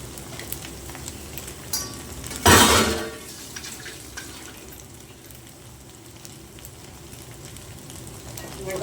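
Spinach sizzles gently in oil in a pan, with a brief louder scrape of stirring near the start before the soft frying hiss settles into a steady, quiet background.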